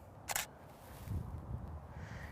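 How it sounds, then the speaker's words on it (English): DSLR camera shutter firing a single test shot with the lens set to f4.0 at 1/250th, a sharp close click near the start, followed by quiet room tone and a faint low thump. "So now I'm gonna take another test shot."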